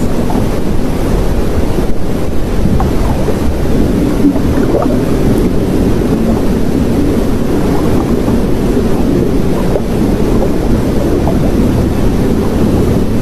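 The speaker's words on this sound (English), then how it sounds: "I know y'all hear that, right? Sound like water." Steady rushing of water like waves washing in, loud and continuous throughout with heavy wind buffeting the microphone, no voices.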